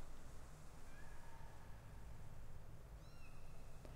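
Kittens in the Sam & Max video game give a few faint, thin meows over a steady low background hum, two brief cries then a rising pair near the end.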